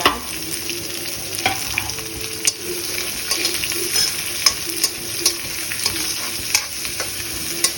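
Chopped onion sizzles after going into a hot pan already holding black cardamom, cumin and black peppercorns. A steady broadband frying hiss runs throughout, with light stirring clicks and scrapes recurring every second or so, close and fairly loud, with no talk.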